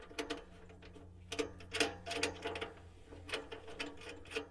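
A 13 millimeter socket wrench turns a nut on a Magnum inverter, giving several quick bursts of close ratcheting clicks separated by short pauses.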